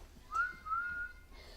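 A person whistling two short rising toots in imitation of a train whistle, clear and close in a quiet room.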